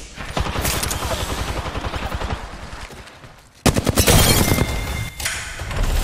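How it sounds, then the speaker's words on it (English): Rapid automatic gunfire from a firefight in the shooter game Apex Legends, two long close bursts of sharp, rhythmic shots separated by a brief silent gap, loud and dense. "Shot fired"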